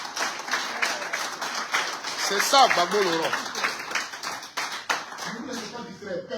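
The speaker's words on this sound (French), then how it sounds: "On applaudit ça." Crowd at a political rally clapping and applauding steadily throughout, with a voice speaking over the applause.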